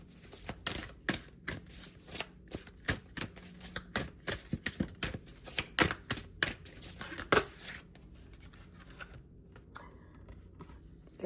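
Tarot cards shuffled by hand during a reading, a rapid run of crisp riffling snaps and slaps for about eight seconds, then a few softer taps as the deck settles.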